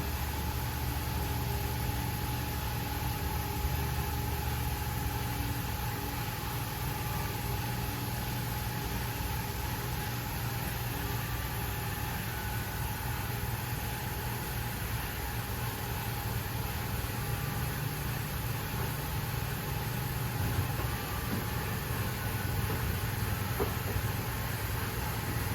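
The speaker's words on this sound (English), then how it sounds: "Now I'll bring the car in, or the vehicle in" A vehicle pulls slowly into a garage lift bay, a steady low engine hum at an even level throughout with a constant tone, no talking.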